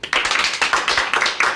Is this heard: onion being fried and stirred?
no